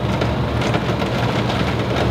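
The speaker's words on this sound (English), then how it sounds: "as you can see, it is pouring rain." Pouring rain outside during a stay in the Florida Keys, a dense, steady roar of heavy rainfall that fills the whole clip with no talking.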